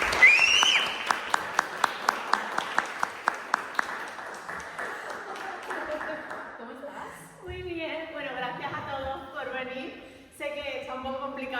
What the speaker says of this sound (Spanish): únanme a recibir a Alba con un fuerte aplauso